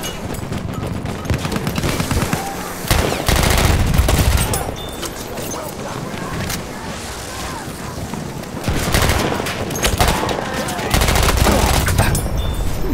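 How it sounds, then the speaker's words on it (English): Bursts of automatic gunfire and rapid shots in a Battlefield 1 match, loud and close, arriving in several heavy volleys with brief lulls between them. "Shooting my teammate."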